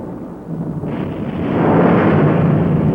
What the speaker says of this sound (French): Ça y est, l'orage a éclaté.